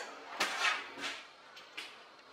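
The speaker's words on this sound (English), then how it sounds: "Again with the feet shuffling." Faint, close shuffling of feet on a floor comes in several soft brushing scrapes spaced irregularly over a couple of seconds, with no one speaking.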